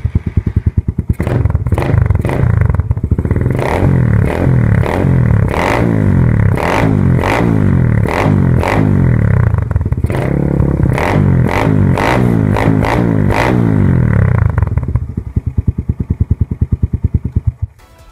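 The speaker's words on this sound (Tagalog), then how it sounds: "malutong po siya tumunog pag walang silencer" A Suzuki Raider R150 motorcycle with an Apido exhaust and no silencer revs repeatedly, close and loud, with sharp crackling bursts rising and falling over a rough, popping idle.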